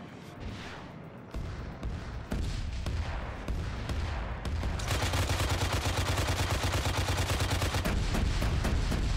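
Video-game combat as a Hind attack helicopter strikes a position: rapid bursts of heavy gunfire and booming explosions, at first scattered, then a dense, continuous, loud barrage through the second half, with no talking.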